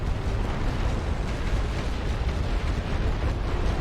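Artillery shells exploding on a World War One battlefield in The Great War: Western Front strategy game, a dense, continuous roar of overlapping blasts and rumbling booms filling the whole stretch at steady loudness.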